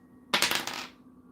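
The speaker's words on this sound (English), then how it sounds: "Let's also see who wants to come out using the dice." Dice rolled during a card reading, one quick close burst of clattering and rattling on a hard surface that settles within about half a second.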